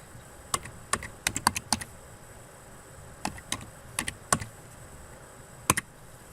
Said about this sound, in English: So I'm going to type the barcode in for that